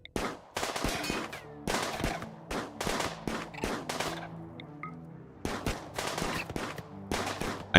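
Gunfire from a RimWorld colony battle crackles in rapid bursts and volleys, loud and close, with short pauses between clusters of shots over steady background game sound.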